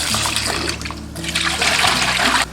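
Tap water runs in a steady, close rush as salted pork and ingredients for a pork and bamboo shoot soup are rinsed, with light splashing that swells louder toward the end.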